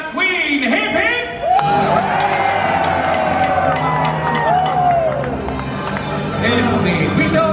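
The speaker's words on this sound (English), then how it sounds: "Let us now raise a cheer for Her Majesty the Queen." A large audience at a Medieval Times dinner tournament cheers for the queen, a loud, sustained roar of whoops and shouts that swells and holds for several seconds.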